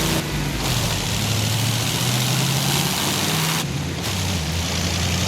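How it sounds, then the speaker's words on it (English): A deep, rumbling old V8 engine in Forza Horizon 5 idles and burbles steadily throughout, loud and close, with a low uneven throb and no talking. "this car comes with a V8 engine, and V8s of this era were very, very burbly"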